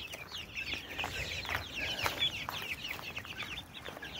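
Chicks let outside cheep and cluck in a busy, continuous chorus of short overlapping calls, fairly faint against a steady outdoor background, with no talking.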